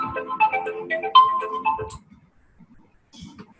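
A phone ringtone plays loudly for about two seconds as a bright repeating electronic melody, then stops, leaving faint room noise and a brief murmur near the end.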